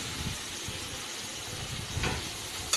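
Dry spices hiss and sizzle in hot oil for masala bhindi, a steady close, moderately quiet frying sizzle lasting throughout, with a brief louder burst near the end.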